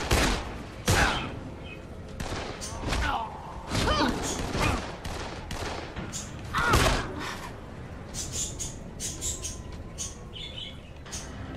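Pistol gunfire in the Dead Island co-op game, a string of sharp close shots at irregular intervals over game ambience with bird chirps, while people talk over it.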